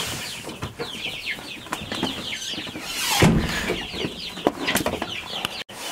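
Chicks on a small farm cluck and peep in a busy, overlapping chorus close by, with a sudden louder flurry partway through and some rustling movement.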